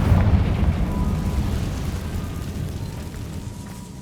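Confringo fire spell explosion in Hogwarts Legacy, a loud deep boom with a rumbling, crackling tail fading over a few seconds.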